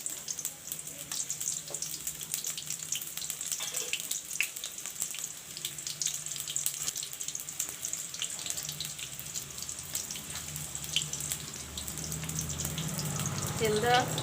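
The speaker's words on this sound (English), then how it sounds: "The mustard oil turns hot, then I will put the onions to fry." Onions fry in hot mustard oil for drumstick and potato curry, making a steady, close crackling sizzle with dense spitting pops that grows slightly louder toward the end.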